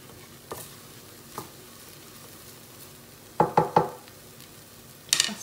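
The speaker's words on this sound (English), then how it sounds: "just cooking that tomatoey curry paste down a little bit for 3 to 4 minutes." Tomato curry paste for chicken tikka masala cooks down in a pan with a low, soft sizzle, broken by scattered sharp clinks and knocks of a utensil stirring against the pan.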